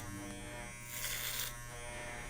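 An electric hair clipper buzzes steadily and close by as it cuts hair over a comb, with a brief brighter swell mid-clip and no talking.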